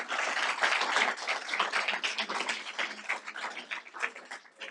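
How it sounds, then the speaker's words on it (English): Audience applause for two guest speakers at the close of a climate and biodiversity talk, a dense wash of many hands clapping steadily for several seconds, loud and close, gradually thinning toward the end. "A round of applause for Chris and Luanne."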